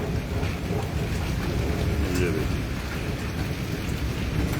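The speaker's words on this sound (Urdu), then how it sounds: "آپ کی بارش ہمارے پاس برس رہی ہے." Steady rain pours during a thunderstorm in Islamabad, a dense, continuous hiss close around, with someone speaking briefly over it.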